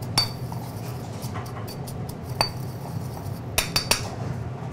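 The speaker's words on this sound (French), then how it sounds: "je vais y ajouter les oignons frits que je pile légèrement" Fried onions lightly crushed in a restaurant kitchen while plating duck breast: a few soft crunchy taps and clinks of utensil against dish, brief and sparse over a low kitchen hum.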